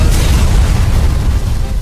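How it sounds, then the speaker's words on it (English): A loud explosion sound effect, a dense low booming rumble that fills the whole moment and holds at full strength without fading. "Moments later, an explosion knocked Hero to the ground."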